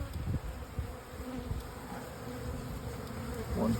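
Honeybees hum continuously near a hive being divided into splits, a close, even buzz with small knocks and shuffles of frames underneath, no voices.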